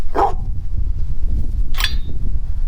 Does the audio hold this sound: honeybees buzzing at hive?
no